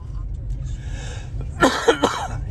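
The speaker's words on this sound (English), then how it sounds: "I'm in the coughing stage" Several short, rough coughs in a quick cluster, following a stretch of low background rumble.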